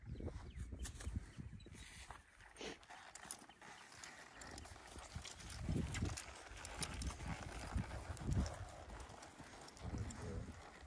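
A quarter horse's hooves clip-clop steadily on the ground as it is ridden in circles, with ongoing rustle and faint voices in the background.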